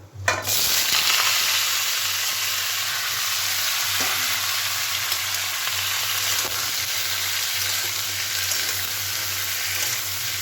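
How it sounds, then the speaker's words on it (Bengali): Potato and pointed gourd pieces fry together in a pan, producing a strong, steady sizzle close by with faint stirring, no voices. "এই যে আলু পটলটা একটু ভাজা ভাজা করে নেবো"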